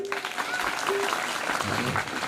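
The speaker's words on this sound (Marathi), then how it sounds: "तुम्ही या संस्थांसाठी टाळ्या वाजवा एकदा" An audience claps at a death-anniversary gathering for Sant Dattagir Maharaj in Loni Karasgaon, Warud, Amravati, with brief, dense applause mixed with a voice over a PA.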